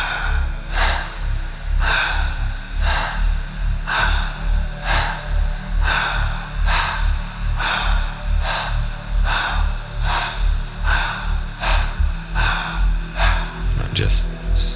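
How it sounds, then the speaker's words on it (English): Fast, full rhythmic breathing during guided breathwork, with about sixteen quick, forceful breath cycles in steady succession, close and loud throughout, alone without talk. "Just stay here with this faster, fuller breathing"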